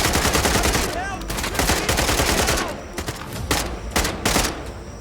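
Rapid automatic gunfire with heavy recoil in a dinosaur island survival video game bursts loud and close in dense volleys, then breaks into shorter separate shots, with a player's voice faintly beneath.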